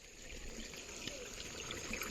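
Water flows in a stream with a faint, steady trickling wash, continuous and somewhat distant, with no talking.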